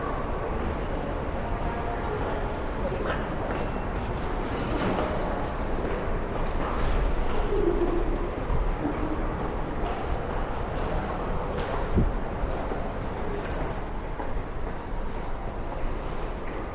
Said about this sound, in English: All right, train's coming.